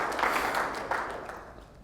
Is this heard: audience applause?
yes